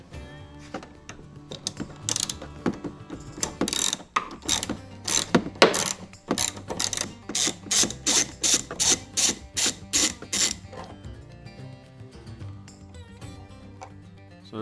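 A socket ratchet turning out a T40 Torx bolt on a Jeep Wrangler JL produces a close, rhythmic run of sharp pawl clicks that speeds into an even rattle, then stops, leaving quiet near the end.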